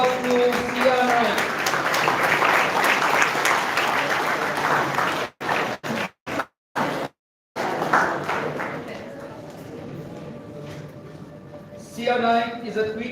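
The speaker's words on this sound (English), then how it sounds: "Give a big round of applause to CR9." Applause from an audience at a school toppers' felicitation ceremony, dense and steady clapping for several seconds, briefly cut out, then resuming more thinly with a fresh swell near the end.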